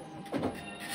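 An Apple ImageWriter II dot matrix printer prints in cyan, its print head giving a short, close, buzzing rasp.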